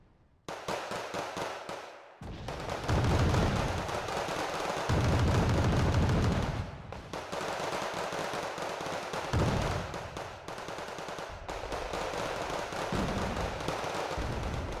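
Continuous battlefield gunfire and explosive bursts from the real-time strategy game Wargame: Red Dragon, involving SASR infantry, with loud, dense cracks and booms layered throughout and a brief lull near the start.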